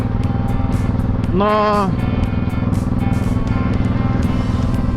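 A Honda VTX 1800 power cruiser's big engine drones steadily while riding, a loud low rumble with wind buffeting, and a voice talks briefly over it.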